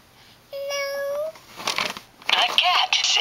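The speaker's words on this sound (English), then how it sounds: "What does the cat say?" A single cat meow, drawn out and tonal, rises clearly from near silence and is followed by brief rustling and people talking.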